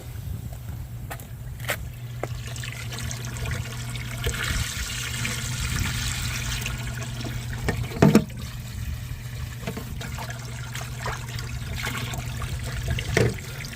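Water sloshes and trickles steadily as a fertilizer mix is poured into water in a container, with a couple of louder splashes and a low hum underneath.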